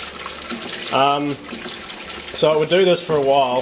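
Water rushes steadily into a Fisher and Paykel washing machine with a fault code 130 error, a continuous hiss close by, while someone talks over it.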